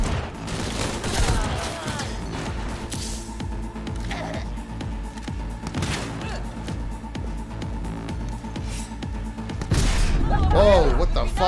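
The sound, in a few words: gunfire in the video game Cyberpunk 2077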